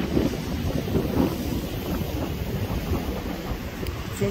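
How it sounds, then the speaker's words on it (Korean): Strong winter wind blusters by the sea on Jeju at night, buffeting the microphone in a continuous low roar mixed with distant surf, with no voices. "바람 소리도 들리죠?"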